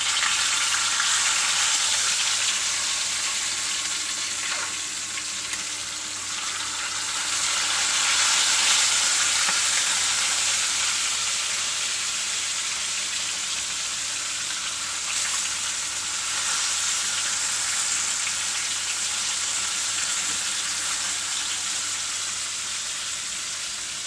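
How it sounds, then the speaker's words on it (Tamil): Fish fries in hot oil with salt in a pan over a stove, a loud, continuous close sizzle that swells and eases over time, with no voices. "அதனால் உப்பு போட்டு எண்ணெயில் தான் சுடுதோம்"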